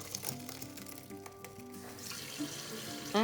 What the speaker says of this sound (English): Drain the extra water in the sink with the strainer.